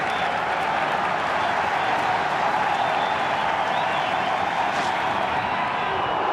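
A large cricket crowd at an India versus Australia one-day match roars and applauds in a steady, dense wash of cheering that stays loud and unbroken throughout.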